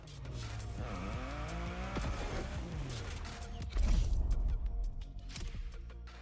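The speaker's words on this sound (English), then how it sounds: "you're going to challenge yourself even more in the time attack with a maxi buggy, the Peugeot 3008 DKR" A Peugeot 3008 DKR maxi buggy in The Crew Motorfest roars through an off-road time attack, its engine revving and tires skidding, with a heavy thump midway and continuous loud driving throughout.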